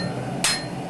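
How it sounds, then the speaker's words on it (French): A single sharp hammer strike ringing out against a sword blade's edge during forging, one bright metallic blow over a low steady workshop hum. "Les tranchants sont ensuite forgés au marteau"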